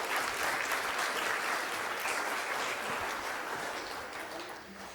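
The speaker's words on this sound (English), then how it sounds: "Let's give everybody a round of applause" An audience claps together in sustained, steady applause that stays loud and dense before thinning slightly toward the end, with no voices standing out.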